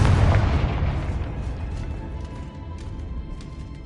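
A Confringo fire-spell explosion in Hogwarts Legacy: one loud, close boom at the start that rumbles and fades away over a few seconds.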